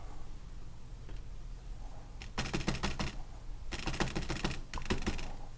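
Tapping on a Bosch RB4 instrument cluster from an Audi A4 under repair comes as three quick bursts of sharp, dry clicks against a quiet background.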